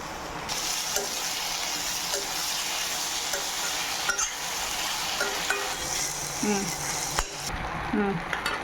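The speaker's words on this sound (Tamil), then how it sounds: "நல்லா வெங்காயம் வதங்கிக்கிட்டு இருக்குது. இந்த தக்காளியை போடுவோம்" Onions and tomato fry and sizzle in a pan while being stirred, a steady close crackle with intermittent scraping strokes throughout, no talking.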